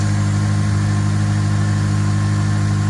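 A car with 219,000 miles, previously hard to start, idles steadily right after starting, a loud, close, even engine hum with a constant low throb and no voices.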